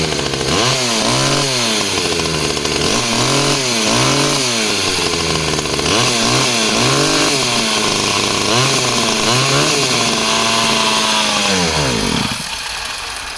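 A Stihl 009 top-handle chainsaw with a fueling fault runs loudly and roughly up close, its revs repeatedly surging and sagging before the engine slows and dies out near the end.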